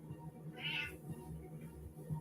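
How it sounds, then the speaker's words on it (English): A single close cat meow rises clearly over a low, steady background hum, with no talking. "Kitty cat. Meow. You're such a bother when I'm making videos."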